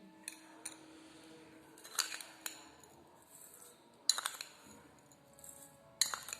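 A large spoon clinks against a bowl while sugar is added to drained chhena, giving a few sharp, quiet metallic taps spaced out over a soft, near-silent background.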